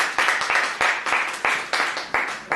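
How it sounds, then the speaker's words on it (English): Audience applause greeting speaker Ray Carey: a sparse, uneven run of individual claps with sharp attacks and quick decays, moderately loud and close, no talking over it. "So give a round of applause to Ray Carey."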